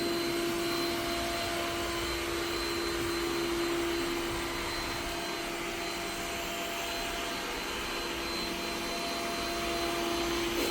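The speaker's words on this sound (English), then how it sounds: "So I've set it to turbo mode or turbo boost, and as you can hear, it's much louder" A Yeedi VAC 2 Pro robot vacuum runs in turbo mode, giving off a loud, constant motor whine and airy suction roar with a steady high tone, unbroken and close for the whole stretch, with no one talking.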